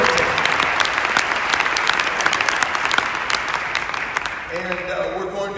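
A church congregation claps together in steady, dense applause that fills the room for several seconds, then tapers off as a voice begins speaking over the last moments.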